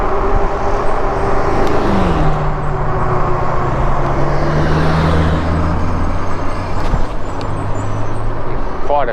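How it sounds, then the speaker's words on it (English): Cars and heavier vehicles pass along a town road, engine and tire noise rising and falling over steady traffic rumble, heard from close by during an e-bike ride. "Quite a few cars today."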